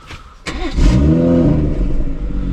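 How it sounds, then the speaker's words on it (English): A warm BMW M140i with a stage 2 tune starts up: a short crank, then a sharp roar that settles into a loud, steady idle close by. "let's jump straight into the car and do a quick startup. It is already warm, so you'll probably get some sort of like startup roar."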